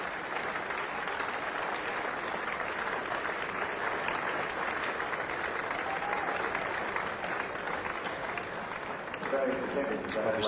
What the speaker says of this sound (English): What's that burst of applause for?